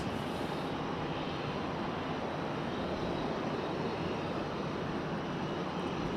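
An Airbus A220 jet at Raleigh-Durham airport produces a loud, continuous engine roar that stays constant from start to finish.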